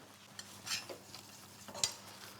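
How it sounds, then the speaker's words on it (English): A spoon stirs a mixture of peanut butter, honey and a pinch of salt in a bowl, with two short scraping, clinking strokes over quiet background. "Stir that through."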